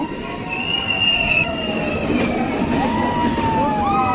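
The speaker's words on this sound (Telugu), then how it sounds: "ట్రైన్ అయితే స్లోగా వెళ్తుంది" A train rolls slowly along the tracks on the Visakhapatnam to Araku Valley line, its wheels squealing in long high-pitched whines over a low rumbling clatter.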